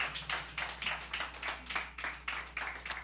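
A church congregation claps in a steady, brisk rhythm of moderate loudness, with individual hand claps audible through the sound.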